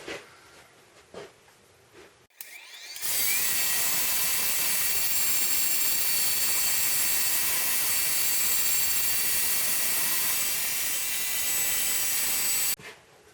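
After a few quiet bumps, a power sander with 40 grit sandpaper starts up and runs for about ten seconds, a loud steady high-pitched whir with coarse rasping on the wood of a lazy Susan, then cuts off abruptly.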